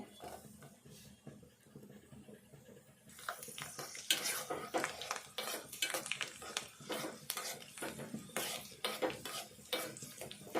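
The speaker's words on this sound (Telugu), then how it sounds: "ఆవాలు ఎండుమిర్చి ఎల్లిపాయలు ఇట్లా సుమ్ చేసుకోవాలి" Mustard seeds, dried red chilies and garlic hit hot oil for a spinach dal tempering; after a quiet start, a close, loud crackling sizzle with spattering pops and stirring clatter takes over and keeps going.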